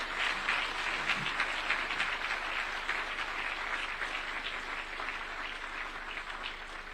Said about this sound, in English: the round of applause you gave him is not sufficient